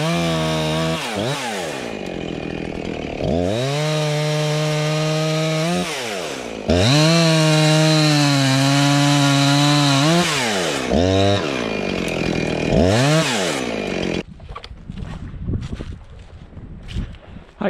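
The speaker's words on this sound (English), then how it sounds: "I can't believe you girls don't mind the chainsaw." Chainsaw cutting wood branches outdoors, loud repeated bursts of revving that rise and fall as each cut bites, several cycles in a row before the saw drops away to quieter idle and rustling.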